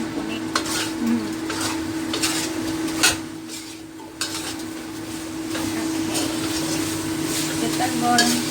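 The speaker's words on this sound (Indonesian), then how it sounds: "Kita goreng cuma bentar doang ya." Lotus root being stir-fried in a pan over high heat: a constant sizzle under repeated scraping and clinking of a utensil against the pan, close and busy.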